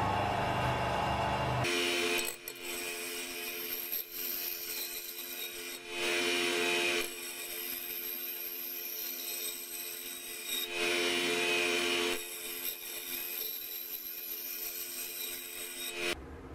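A homemade knife blade forged from a steel water pipe is sharpened by hand, giving steady rhythmic grinding and rasping strokes that stop in a few short pauses, close and loud, with no talk.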